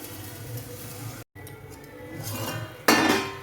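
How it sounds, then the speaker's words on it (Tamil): A metal lid goes down onto a cooking pot of softening onions and tomatoes with a sharp clink near the end, after a stretch of quieter kitchen clatter and a brief dropout. "மூடி போட்டு வச்சிடலாம்."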